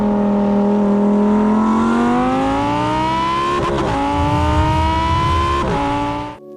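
A loud, close Lamborghini Huracan EVO engine revs up in Strada mode with a rising, sharp exhaust note, holding high with brief stutters between gears before cutting off abruptly.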